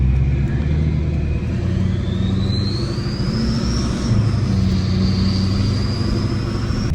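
A Duramax diesel truck engine on an 800HP fuel setup idles while warming up, a steady loud rumble close by with a faint rising whine and no talking.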